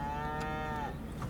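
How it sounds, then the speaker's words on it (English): Cattle being brought up moo in a long, low, droning call that fills the whole moment, steady and fairly near against rustling outdoor background noise. "Oh, they just brought the cows up."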